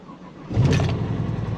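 A Chevrolet Silverado with a knocking, blown-up 5.3 V8 and 136,104 miles cranks and fires up. It starts with a sudden rough roar that settles into a loud, close idle, with no talking.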